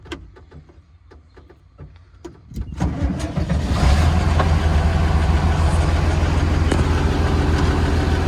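A tractor engine cranks after a few faint clicks, then catches and settles into a loud, steady idle that runs on alone, close by.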